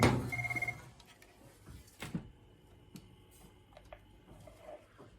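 A telephone on a Nortel Meridian intercom system rings briefly after extension 200 is dialed: a short electronic ring at the start, then quiet line noise with faint clicks.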